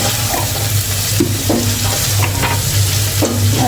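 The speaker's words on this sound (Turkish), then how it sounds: "Kavurdum ben soğanımı, biberimi, etimi" Onion, pepper and meat sautéing in a pan for a Turkish meat stew: a steady, loud sizzle with a spatula scraping and stirring at irregular intervals, no talking.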